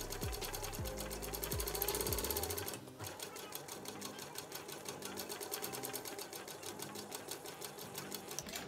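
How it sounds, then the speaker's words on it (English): A sewing machine top stitches a clear vinyl pouch, its rapid, steady mechanical chatter close and continuous throughout, with a brief higher whir at the start. "I'm gonna top stitch at an eighth of an inch"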